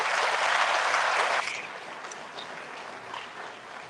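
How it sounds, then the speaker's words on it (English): Crowd at a Sikh community volunteers' appreciation day breaks into loud clapping, which holds for over a second and then drops sharply to a softer, thinning patter of scattered hands. "Can we all put our hands together and give all of you a round of applause?"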